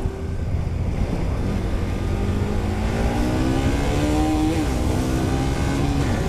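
Engine noise from a Bajaj Pulsar NS200 motorcycle overtaking a car on a road, a steady loud drone with rising and falling rev tones as it accelerates past, no talking.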